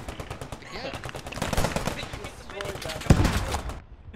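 Gunfire in the WW2 video game Post Scriptum: rapid bursts of shots and a heavier blast near the end, mixed with players talking over the action.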